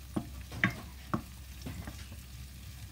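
Onions frying in a pan for fish and shrimp curry, a faint low sizzle broken by a handful of sharp spoon knocks and scrapes against the metal at uneven intervals.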